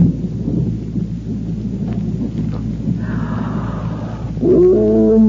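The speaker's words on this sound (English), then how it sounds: "sounds like a storm blowing up outside, doesn't it, children?" Thunderstorm sound effect from an old-time radio drama: a low, rumbling roll of thunder with a hissy, lo-fi vintage texture, fairly loud, ending in a brief higher tonal sound.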